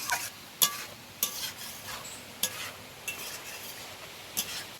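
Pasta made from wheat flour is stirred in a pan with a spoon, giving rhythmic scraping clinks roughly every half second over a soft continuous sizzle.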